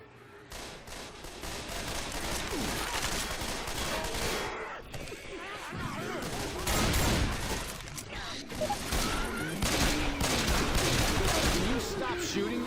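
Dense, continuous gunfire from the zombie shooter game Left 4 Dead 2: sustained automatic bursts and rapid shots at close range throughout, with players' voices faintly mixed in.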